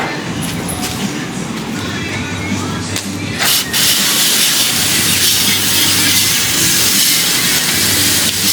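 Hot car radiator sprayed with a water hose: a loud, steady broadband hiss of steam and spray runs throughout, surging sharply near the middle and staying strong to the end, with a low hum beneath.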